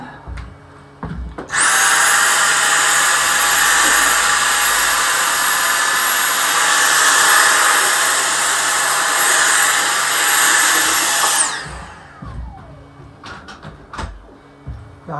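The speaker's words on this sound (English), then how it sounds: "Let me vacuum up before I do that." Vacuum cleaner sucking up sawdust after sawing while framing a picture: a loud, steady high-pitched whine switches on, runs for about ten seconds and then winds down, followed by a few quiet knocks.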